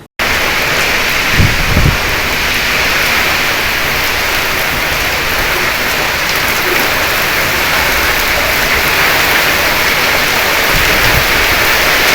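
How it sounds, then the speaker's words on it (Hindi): Heavy rain falling, a dense and loud continuous hiss that stays even throughout, with a couple of faint low thumps early on and no speech. "बारिश हुई है इस वक्त बहुत अच्छा हुआ है"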